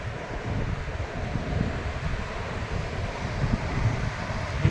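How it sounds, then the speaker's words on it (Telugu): Sea waves roll in on Hamsaladeevi beach as wind blows across the microphone, a steady, broad rumble of surf and gusts with no voices. "సముద్రం."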